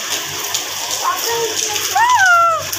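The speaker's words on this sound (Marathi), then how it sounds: "पाऊस पाऊस पाऊस पाऊस पाऊस पाऊस" Steady rain from Cyclone Biparjoy hisses across the whole clip, broad and close, while a few birdlike chirps and whistles rise and fall above it.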